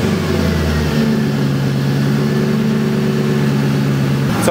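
A loud, rough straight-piped engine on a 1968 Ford F350 idles steadily with a deep rumbling tone after starting, close by and continuous, with a faint shift near the end.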